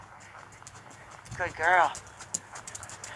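A horse's hooves clip-clop on the ground during groundwork training, faint and steady under a nearby woman's brief spoken praise.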